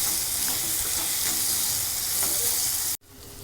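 Potatoes frying with coriander powder are stirred in a hot pan, a steady loud sizzle with soft scraping strokes that cuts off abruptly near the end, leaving a quieter hiss.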